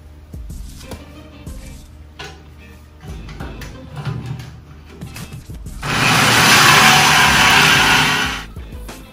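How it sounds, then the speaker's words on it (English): A jigsaw cuts into a custom 1951 Ford F1 steering column in a loud, steady burst of about three seconds, preceded by clattering and handling noises in the shop. "here's what I was able to do with my jigsaw"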